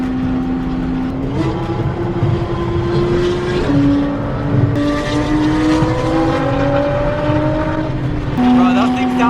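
A Porsche GT3 RS sports car engine revs loudly and repeatedly nearby, its pitch climbing and dropping in a series of sharp, throaty blips, while people talk excitedly over the noise.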